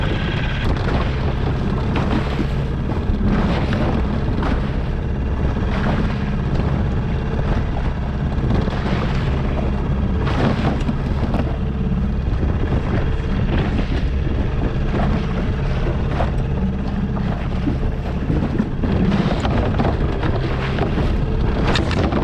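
Strong wind batters a small fishing boat in rough seas off Half Moon Bay, a loud constant roar of gusts buffeting the microphone over a rumbling engine, with no break across the whole stretch.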